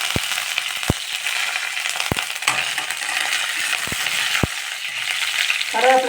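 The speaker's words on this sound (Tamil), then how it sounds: "கருவேப்பிலை கொஞ்சம் போட்டுக்கலாம்." Curry leaves fry in hot oil with urad dal for upma, a steady crackling sizzle broken by several sharp metallic taps of a spoon stirring against the pan, close and continuous.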